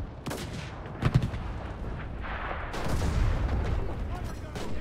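Machine-gun fire in the WWII shooter Enlisted, set in Normandy, comes as sharp bursts and rattling volleys over a constant battlefield rumble, with heavier booms in between and a voice talking over the action.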